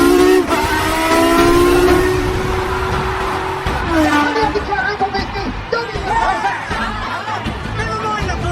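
Formula One racing cars, Niki Lauda's Ferrari and James Hunt's McLaren, climb uphill into Druids corner, engines whining and revving with a falling pitch as they pass, mixed with crowd chatter and laughter.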